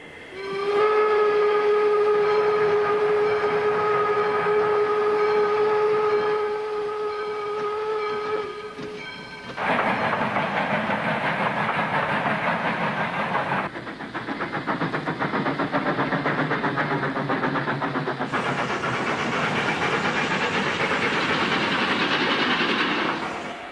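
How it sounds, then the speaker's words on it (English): A steam locomotive hauling sugarcane by rail from Hawaiian cane fields sounds a long, loud whistle, then chuffs and rumbles with rattling cars and hissing steam as the train passes close. "the cane was transported from fields to the factory by steam locomotives, some of which are still in operation"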